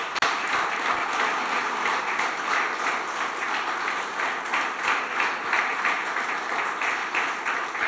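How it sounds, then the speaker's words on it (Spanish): Church congregation applauding during a Spanish-language worship service, a dense, steady wash of many hands clapping that holds loud and even for the whole stretch. "¿Por qué le das tu mejor aplauso al Señor?"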